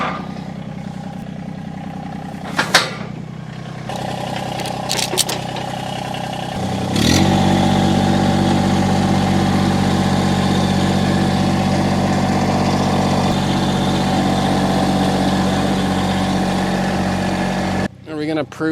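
A Jeep engine pulls a homemade trailer, starting with a few knocks and a low idle before settling into a loud, steady drone that holds until a sudden cut at the end.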